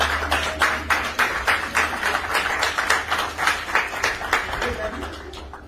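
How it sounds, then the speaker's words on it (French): Wedding guests clap for the witnesses at a ceremony, a steady patter of hands with rhythmic bursts running throughout under music and voices. "Applaudissez pour les témoins."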